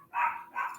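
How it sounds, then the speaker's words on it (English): Two quick, sharp dog barks close by, one after another, with no other sound around them. "Stop barking."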